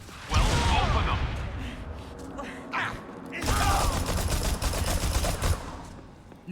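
Rocket launchers fire at near point-blank range in the video game Dead Rising 3, giving loud, dense bursts of blasts and rapid gunfire in two heavy volleys, with game voices mixed in.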